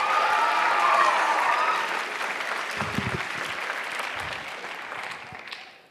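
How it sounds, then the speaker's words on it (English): Audience applause for a band at a comedy show, a dense burst of clapping and crowd noise that starts strong and gradually tapers off near the end. "can you give a big round of applause for that band that just came out here a second ago?"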